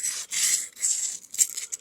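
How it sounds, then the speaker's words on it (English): 150 grit sandpaper scratches along the edge of an object in short bursts of dry, hissy rasping, close and alone with brief gaps between strokes. "I've got some 150 grit sandpaper, and I'm just going to go along the edge of it here, just scratching it up a little bit"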